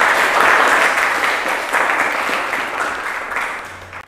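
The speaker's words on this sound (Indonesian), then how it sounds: "Tepuk tangan dulu buat Cika" A classroom of students applauds a classmate, a dense, fairly loud wash of clapping that fills the moment and slowly tapers off.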